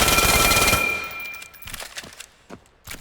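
Pistol fire in the VR shooter Vail, a loud burst of rapid shots at the start that trails off, followed by a few scattered sharp reports and metallic clinks.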